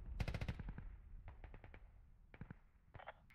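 Video game gunfire laying down suppressive fire, with a rapid automatic burst up front followed by shorter clusters of sharp shots, echoing and moderately distant, with no talking.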